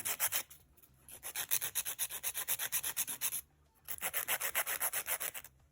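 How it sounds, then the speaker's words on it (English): A fingernail being reshaped with a nail file, heard as close, rhythmic rasping strokes in two steady runs separated by a short pause, with no talking. "I always use a file to reshape my nail."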